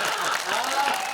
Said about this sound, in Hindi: तालियां कमजोर है भाई साहब